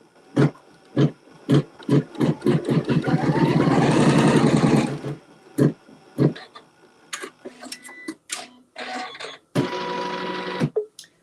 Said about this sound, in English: I'll stitch that seam.